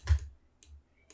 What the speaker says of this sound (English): if I hit the period sign on my keyboard